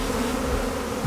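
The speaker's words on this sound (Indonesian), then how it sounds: "Coyote, kamu benar-benar dipenuhi lebah." A dense swarm of bees buzzes loudly and continuously right at the microphone, a steady close drone without pauses.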